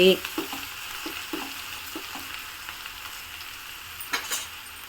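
Ivy gourd pieces fry in a pan with a pinch of turmeric, giving a continuous close sizzle with a sharp stirring clatter at the start and a few light scrapes throughout.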